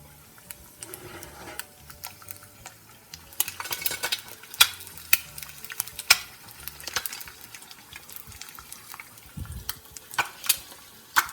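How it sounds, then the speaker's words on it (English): An egg fries in a Griswold cast iron skillet with a soft, steady sizzle, broken by intermittent clinks and scrapes of a utensil against the pan, with no talking. "To demonstrate these properties, I'll cook an egg in this Griswold pan."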